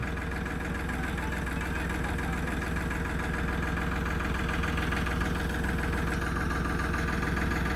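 A Farmtrac 65 tractor engine idles steadily, a constant low rumbling chug that holds the same level throughout with no voices.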